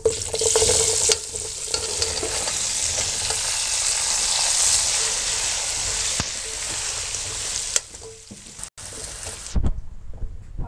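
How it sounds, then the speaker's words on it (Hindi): Potatoes fry in hot oil with cumin, salt and chili, giving a loud, steady sizzle and hiss with occasional stirring scrapes, fading toward the end. "ज़ीरे को आप लाइट सा फ्राई करें, साथ ही नमक मिर्च डाल दें और साथ ही आलू भी डाल दें।"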